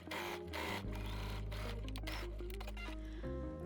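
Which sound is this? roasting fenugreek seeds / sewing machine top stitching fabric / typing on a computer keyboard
sewing machine top stitching fabric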